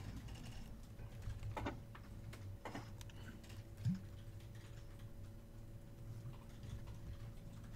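Sparse keystrokes tap on a computer keyboard, quiet and close, scattered irregularly over a low steady hum.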